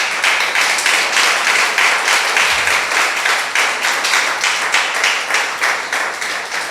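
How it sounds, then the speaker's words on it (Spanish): A church congregation applauds loudly and steadily, a dense sustained clapping from many hands that fills the room throughout. "Levante un fuerte aplauso al Señor."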